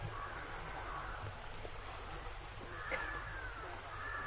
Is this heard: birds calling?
yes